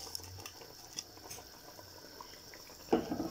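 Spiced masala water boiling in a cooking pot, a quiet simmer of scattered bubbling pops and light liquid ticks, with a brief louder splash near the end.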